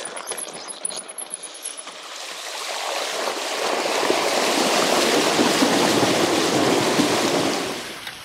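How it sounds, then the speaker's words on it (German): Bicycle wheels rolling through shallow river water in a desert wadi in Saudi Arabia, a steady rushing splash that swells and holds loud for several seconds before fading, with no talk over it. "Immer durchs Wasser kann man hier fahren"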